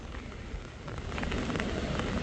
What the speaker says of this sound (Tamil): மிதமான மழை கொட்டியது மற்றும் சில பகுதிகளில் சாரல் மழை பெய்தது